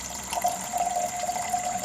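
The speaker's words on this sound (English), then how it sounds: "I'm going to go ahead and pour off this copper nitrate" Copper nitrate solution pours off from a container during silver recovery in gold refining, a steady close liquid splash and trickle running the whole time with no talk.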